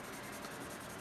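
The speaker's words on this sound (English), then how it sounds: "I'm holding the pencil in the back so that I don't apply too much pressure onto the paper" A Kitaboshi 9606 HB pencil rubs across paper with light pressure, giving a close, continuous scratchy graphite shading sound with faint repeated strokes and no voices.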